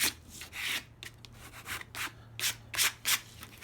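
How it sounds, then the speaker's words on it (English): An old plastic card scrapes bubbly transfer film on a decal with light pressure, working outward from the center: a series of short, close, soft rubbing strokes in an uneven rhythm, with no talk. "I have an old card here. So I'll start from the center out, just kind of scrape it out from the center."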